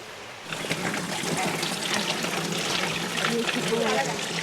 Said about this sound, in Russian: Кстати, там снизу вот водичка шумит.